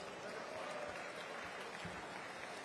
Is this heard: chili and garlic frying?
no